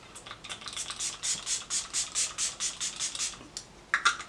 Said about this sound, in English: I'm going in with the Grip Hydro Refresh Spray